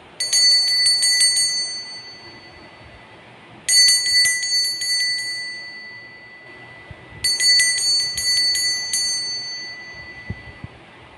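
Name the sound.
bell ringing to mark the start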